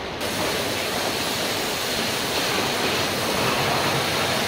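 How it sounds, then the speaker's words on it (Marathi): A borewell motor pumping water out of a farm pipe, a loud, steady rushing gush of water close by, continuous throughout with no talk. "मोटर चालू करतो लवकरात लवकर. आता इथून पाणी"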